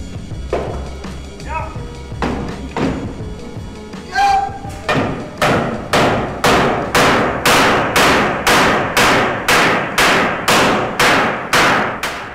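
A riveting hammer strikes metal on a scooter in a steady, loud series of sharp blows, about two per second, with a few irregular knocks before the rhythm settles.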